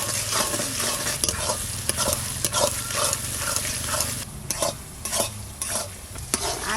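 Onion, tomato and garlic fry in a pan while a spoon stirs them with steady scraping strokes and sharp clicks against the metal over a continuous sizzle, close and fairly loud, with no talking.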